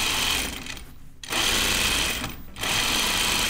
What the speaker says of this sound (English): I think I'm just gonna stitch the edges together.